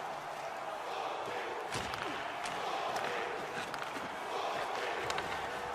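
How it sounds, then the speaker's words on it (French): A large arena crowd at a Finland–Sweden ice hockey final fills the space with a steady murmur and swelling voices, some chanting Suomi, with scattered thuds and cries rising from the stands throughout. "écoutez là, les murmures dans la foule"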